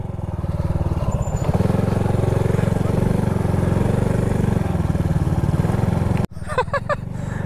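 A motorcycle engine drones steadily and close, straining uphill at a constant pitch for several seconds before cutting off abruptly, followed by brief clattering.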